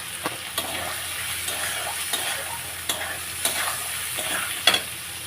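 Fried potatoes tipped into a frying pan with soaked ginger, cumin and chilli paste, a steady close sizzle with repeated scraping stirs and light spoon taps on the pan, no talk.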